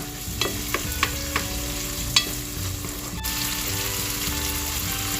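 Tomatoes stirred and frying in a pan for pinakbet, a steady close sizzle with scraping spoon clicks and a few sharp taps, no talk.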